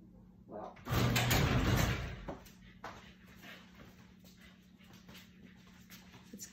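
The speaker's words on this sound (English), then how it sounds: "I need to close the garage door" A garage door rumbles shut for about a second with a loud, broad rolling noise, followed by faint shuffling and scattered light clicks in a quiet room.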